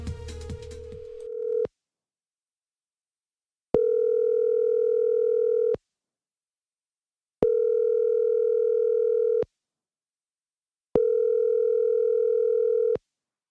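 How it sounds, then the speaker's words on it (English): Telephone ringing as part of a country song, heard as a steady electronic ring tone in four long, evenly spaced bursts separated by silent pauses, loud and clear with no voices. "you're going to hear the phone start ringing"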